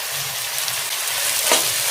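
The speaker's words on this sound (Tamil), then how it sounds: "தக்காளி சேர்த்து நல்லா வதக்கணும்" Steady, loud sizzling of tomatoes frying in a pan, with an occasional stir or scrape.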